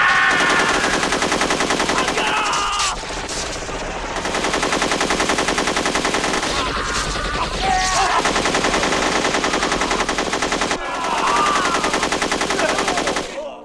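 Sustained automatic gunfire from guns ordered to shoot rioting prisoners in a North Korean prison camp, loud continuous bursts with brief pauses, mixed with dramatic score and no clear speech.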